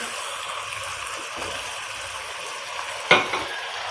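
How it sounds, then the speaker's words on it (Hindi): Masala with tomatoes fries in a kadai with a steady, close hiss of sizzling oil, and a single sharp scrape or clank of a utensil near the end. "इसको अच्छा सा 2-3 मिनट के लिए फ्राई कर लेते हैं।"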